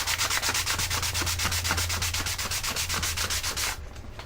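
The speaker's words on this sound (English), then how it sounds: "If you got coarser sandpaper, it goes pretty quick" Sandpaper rubs back and forth along the cut edge of a computer case window in quick, regular strokes, each a rasping scrape repeated steadily at close range before stopping near the end.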